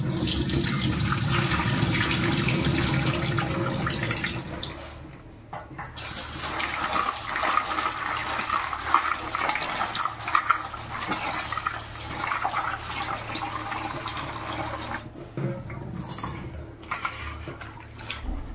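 Radish seed pods rinsed under a running tap: a loud, steady gush of water streams for about five seconds, then continues as irregular splashing and rinsing as the pods are handled, with brief pauses near the end; no one speaks.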